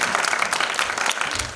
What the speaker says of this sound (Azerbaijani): Alqışlayırıq.